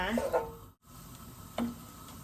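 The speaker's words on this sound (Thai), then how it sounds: "กระทะร้อนก็ใส่กระเทียมสับนิดนึงนะคะ" Chopped garlic sizzles softly in a hot pan, a steady crackle with a short break, joined by faint stirring sounds and a murmuring voice.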